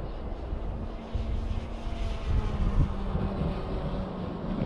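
A model airplane climbs at open throttle, its small engine giving a steady, fairly faint drone that swells slightly, mixed with wind buffeting the microphone.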